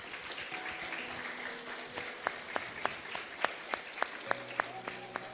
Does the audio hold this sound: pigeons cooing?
no